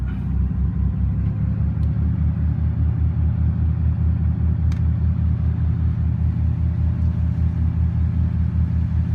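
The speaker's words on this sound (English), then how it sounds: "So we'll throw them into gear, and we'll power up." Engines of a Bayliner 45 Pilothouse boat put into gear and powering up give a loud, steady low rumble with a throbbing drone heard close, unbroken and without talk.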